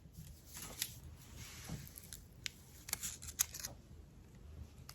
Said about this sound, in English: then we're going to just cut out our little leaves for the sepal